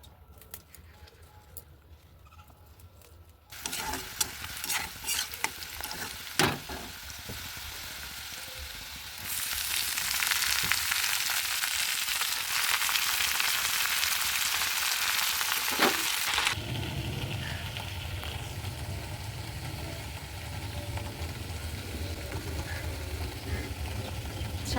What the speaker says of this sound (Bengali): শাক ভাজাটা বসিয়ে দিলাম, এটার মধ্যে আছে লাল শাক আর সর্ষে শাক